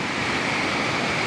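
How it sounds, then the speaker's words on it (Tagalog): A very large waterfall on the Kawayan River pours in a constant, loud rushing roar, broad and unbroken, with no voices over it. "Ito, napakalaking falls nito."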